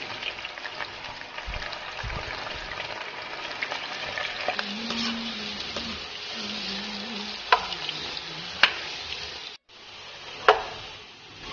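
Soybeans (bhatmas) fry in hot oil in a home kitchen with a steady close sizzle, broken by occasional scrapes and clinks of stirring.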